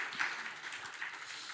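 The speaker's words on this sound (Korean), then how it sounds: "우리 감사와 또 격려의 박수를 좀 쳐드렸으면" Church congregation applauding in thanks for the broadcast and subtitle team during a Sunday worship service, a steady, fairly faint patter of many hands that holds evenly without a voice over it.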